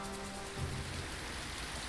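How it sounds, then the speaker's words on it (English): Rain falls steadily in Final Fantasy XII, a continuous soft hiss with a faint low hum beneath it and no voices. "Rain again, oh my god."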